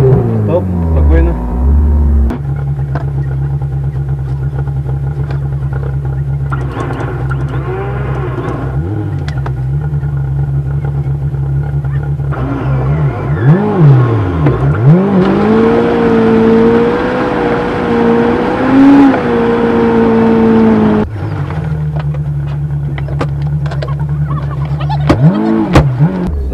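Lada Niva engine revving while driving off-road, a loud close steady drone that climbs into strained high revs in the middle, with a person talking over it.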